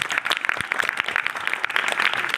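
A crowd at a camp gathering claps in dense, continuous applause, bright and moderately near, many hands overlapping without pause.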